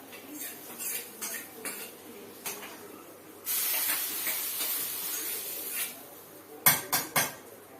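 Butter poured into a hot pan erupts into a loud, sustained sizzle, with scattered utensil clinks before and sharp metallic taps after, no talking.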